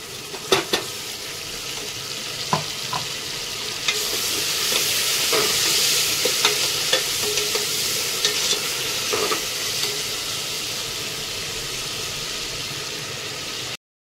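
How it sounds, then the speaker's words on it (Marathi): A green ground paste hits a pan of golden-browned onion and tomato for a chicken pulao masala, sizzling loudly with scraping stirs and clinks of a spoon, close and continuous. "आणि आता हे जे हिरवं वाटण केलेलं आहे ते टाकणार आहोत."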